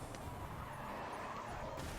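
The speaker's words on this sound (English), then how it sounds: "This car right here that I'm driving is another drifting car. As you can see, it drifts quite well." A car drifting in the racing game GRID 2, with a steady broad engine roar and a continuous tire-skid hiss, fairly quiet and even throughout, and no voices.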